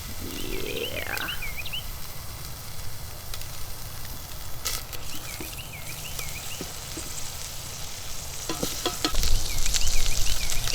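Butter melting and sizzling in a hot Instant Pot before onions go in, a steady close frying hiss throughout, joined by a few faint chirps and light clicks.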